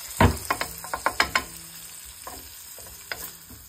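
Pancetta crisping in a pan, a close sizzle with a quick run of sharp scraping stirs early on, then quieter spitting and occasional taps.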